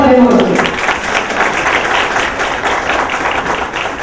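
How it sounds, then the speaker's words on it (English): Audience at a school parents' event applauding, a steady wash of clapping with some voices mixed in, fairly loud and continuous. "So please clap for them also."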